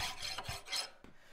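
A metal file rasps across forged steel held in a vise, about four short, scratchy strokes in quick succession, close and alone.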